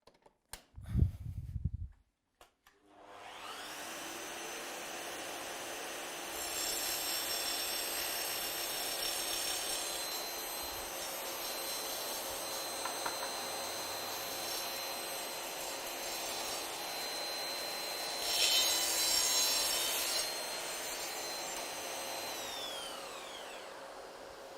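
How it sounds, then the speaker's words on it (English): A Festool CS 70 table saw spins up after a few brief knocks and cuts into a wooden splinter guard, a loud, steady high-pitched whine with a rising burst of cutting noise near the end before it winds down. "Now, I'll cut into the splinter guard."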